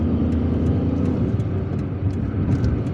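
A car drives onto National Highway 5, the Ben Aknoun motorway in Algiers, giving a continuous close road and engine rumble with faint ticking and rattles above it. No one speaks.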